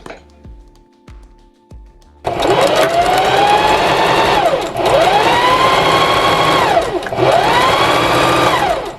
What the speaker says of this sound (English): we can now go to the sewing machine and stitch it up with a 5/8 of an inch seam allowance